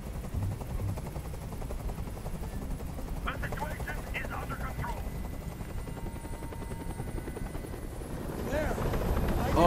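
A helicopter hovers in the video game Detroit: Become Human, its steady rotor drone loud and constant throughout, with bursts of gunfire partway through and the rumble swelling toward the end.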